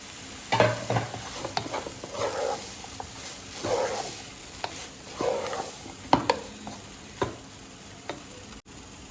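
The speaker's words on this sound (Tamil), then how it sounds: "5 நிமிஷம் நல்லா கிளறணும்." Idiyappam rice being stirred in a pan, with repeated scraping and scooping strokes in an uneven rhythm, close and moderately loud over a faint sizzle.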